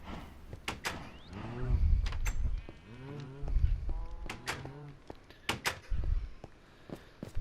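Cows moo in a farm game, several loud drawn-out bellows coming in overlapping bursts, with knocks and footstep-like clatter between them.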